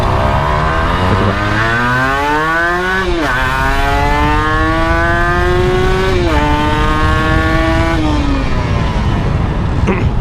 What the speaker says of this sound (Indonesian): Enaknya dengan knalpot racing ini ya, dengan knalpot free flow.